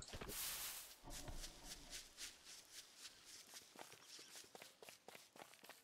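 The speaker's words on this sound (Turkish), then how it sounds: "şu ayak sesi çok sinir bozucu değil mi" Quick footsteps from the video game Don't Starve Together tap along in a steady, fast rhythm, with brief rustling noise at the start, all at a low level.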